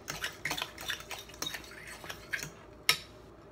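Ingredients for a plant-based wonton lasagna get stirred and mixed in a bowl, with quiet, irregular clinks and scrapes of a utensil against the dish and one sharper knock near the end.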